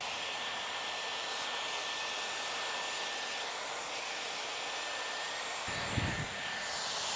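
An air-blowing hair styler that sucks hair in to curl it runs with a steady, even whooshing hiss at close range, broken near the end by a brief low thump, with no voices.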